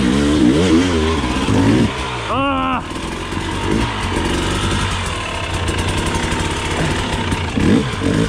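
A KTM dirt bike engine on steep cliffs revs and bogs with wavering pitch, ending in a sharp rising rev, then settles into a rough, uneven running note with some voice mixed in.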